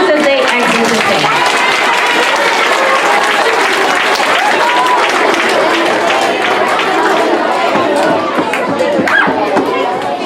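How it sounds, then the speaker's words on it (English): A school awards-event audience applauds students as they leave the stage: sustained, loud, dense clapping that fills the room, with crowd chatter and voices mixed throughout. "let's give them one more round of applause as they exit the stage"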